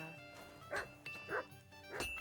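Dog barking in Kingdom Come: Deliverance 2, three short separate barks spread evenly apart, moderately loud over a low background hum.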